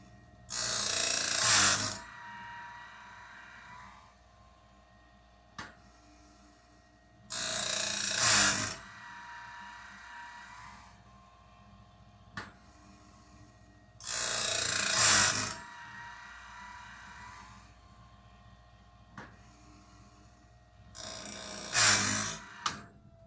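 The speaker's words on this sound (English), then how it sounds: "let my sawmill blade sharpener finish sharpening this blade" A sawmill blade sharpener grinding a blade: four loud bursts of harsh metallic grinding recur at regular intervals, separated by quieter mechanical hum and occasional sharp clicks.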